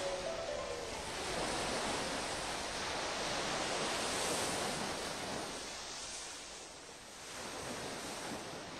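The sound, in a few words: sea waves off Ikaria island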